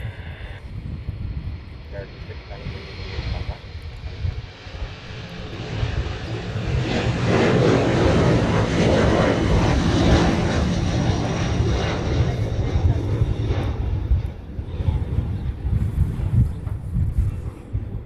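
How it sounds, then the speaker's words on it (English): Airbus A380 airliner on the runway, its jet engines a broad rumbling roar that swells and holds steady for several seconds before easing slightly, heard from a distance with voices talking over it. "Alright, so the A380 is lining up."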